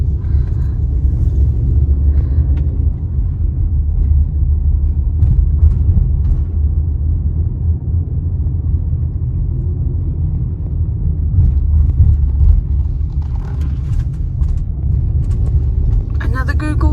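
A Google car drives by on a Las Vegas street, a low steady vehicle rumble and road noise filling the whole stretch, loud and close, with brief higher swishes late as traffic passes.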